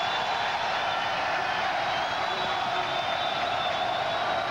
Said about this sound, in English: The crowd jumping up and down as Duke has its biggest lead of the night